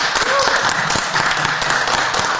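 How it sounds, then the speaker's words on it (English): Steady, dense applause greets a guest on a podcast, a continuous wash of clapping at even loudness with no pauses throughout. "You have a round of applause"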